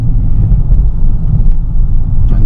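A 5.7 engine making odd noises, heard as a steady, close, low rumble with a dense drone that holds at an even level and has no voices over it.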